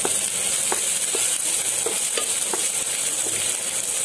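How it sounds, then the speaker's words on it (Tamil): Onions frying in a mix of ghee and oil, a steady loud sizzle throughout with periodic scraping stirs of a spoon every half second or so. "ஆனியன்ஸை நல்லா ஒரு 2 நிமிஷம் நல்லா வதக்கலாம்"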